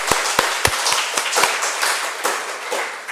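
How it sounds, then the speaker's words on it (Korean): A church congregation applauds the choir at a Sunday service, a handful of distinct sharp claps at first that thin into sparse, scattered clapping. "오늘 우리 찬양을 준비하고 열심히 또 준비한 우리 찬양대 우리 분들에게 박수 한번 드리겠습니다"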